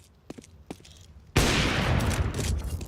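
Burst of gunfire from the video game Counter-Strike 2 during an esports match, a sudden loud volley erupting after a few faint ticks and continuing as a dense, sustained rattle.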